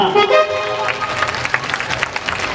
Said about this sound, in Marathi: दोन्ही हात वर करा आणि जोरदार टाळ्या